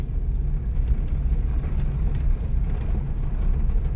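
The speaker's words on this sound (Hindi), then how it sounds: "गाड़ी आ रही क्या" A vehicle rumbles along a forest road at night in Nawegaon national park, a steady low engine-and-tyre drone that stays moderately loud with slight swells, no voices.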